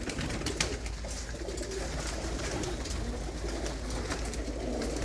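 Desi pigeons coo steadily in a loft, soft repeated calls layered over a constant low hum and rustling background, with no speech.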